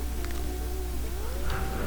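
Gary the snail from the SpongeBob Battle for Bikini Bottom video game gives a short, clear cartoon meow over a quiet game background hum, a single brief call with no talking.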